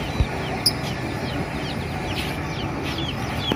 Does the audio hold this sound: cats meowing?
no